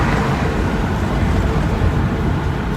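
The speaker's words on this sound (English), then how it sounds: "It's not like my truck is exactly quiet." Steady low rumble of road and engine noise from inside a truck cab while driving, constant and fairly loud with no distinct events.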